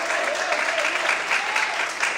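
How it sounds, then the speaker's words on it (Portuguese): A church congregation applauds loudly and continuously in a sustained wash of clapping for about two seconds. "Mais forte as palmas."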